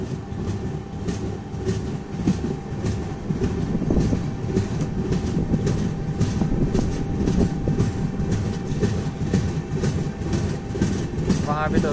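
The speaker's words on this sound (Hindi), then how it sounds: "दोस्तों 2 मिनट रुकने के बाद जो अपनी ट्रेन निकल चुकी है अभी करनाल रेलवे स्टेशन से" The Una Janshatabdi Express runs steadily after leaving Karnal station in India, heard from on board as a loud continuous rumble with rhythmic wheel clatter and a brief squeal near the end, while someone talks over it.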